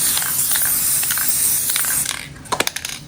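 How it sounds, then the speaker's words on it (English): Long hissing bursts from an aerosol can spraying a tufted rug's backing, close up, a few short sprays and then one sustained spray, followed by light clicks and taps. "I'm just gonna spray the backing."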